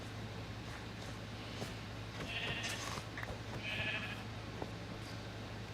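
Sheep in Minecraft let out two close, clear bleats, one after the other, over a faint steady hum, with no talking.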